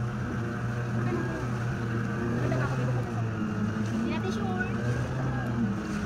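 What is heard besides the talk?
struggling boat engine during island hopping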